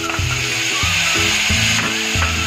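Capsicum and tomato roast in a hot pan, giving a steady, close sizzle that runs without a break, with a low tonal backing underneath.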